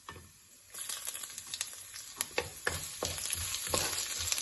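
Ginger frying with dal in a pan for lemon rice, a close crackling sizzle broken by repeated quick spatula scrapes as it is stirred, with no talk.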